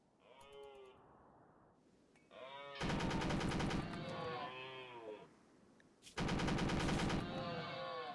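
Automated turrets in RimWorld open fire on a charging elk, with two sustained bursts of rapid gunfire around loud bellowing animal calls and moos, under a busy game soundscape.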